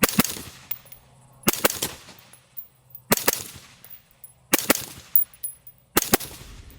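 A 6mm rifle fitted with a lightweight HAVIC suppressor fires rapid doubles, five pairs of sharp, close cracks spaced about every second and a half, each pair followed by a short fading echo.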